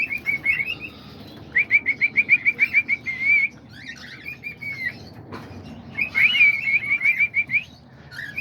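Small aviary birds, including diamond doves, budgies, cockatiels and lovebirds, chirp and sing in rapid repeated trills, several bursts of whistling tweets overlapping, close and lively with faint rustling between phrases.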